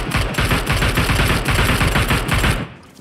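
Loud, rapid automatic gunfire in the battle-royale game PUBG Mobile, a continuous close burst of shots that cuts off near the end.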